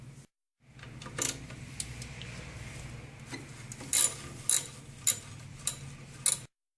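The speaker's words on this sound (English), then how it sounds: "We're using a 10mm to remove the nut." A 10mm ratchet wrench loosening a nut during a car water pump replacement, a series of about six sharp separate ratcheting clicks over a low steady hum, close and fairly quiet.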